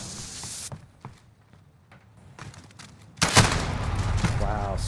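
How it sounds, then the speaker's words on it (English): A sniper rifle shot in Modern Warfare 2 cracks loudly, followed by sustained noisy gunfire and ambience, with a voice briefly audible. "Wow, sniped."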